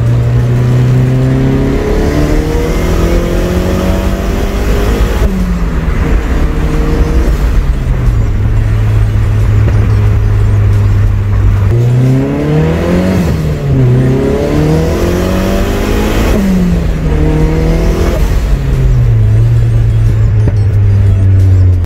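A car fitted with an extra fuel injector accelerates hard on a drive, its engine loud and close inside the cabin, revving up through repeated gear changes in rising sweeps with brief drops between shifts.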